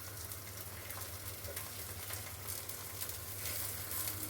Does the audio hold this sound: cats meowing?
no